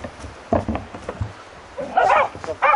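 A burrow hunting dog working a fox in an artificial den gives muffled barks, yips and whimpers in short bursts, sounding enclosed and moderately close, with a couple of louder, sharper calls toward the end.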